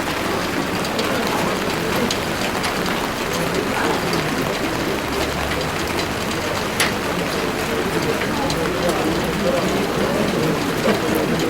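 Steady rain falls throughout an outdoor memorial plaque unveiling ceremony in Ternopil, a dense continuous hiss of drops heard close and loud, with a voice speaking faintly beneath it.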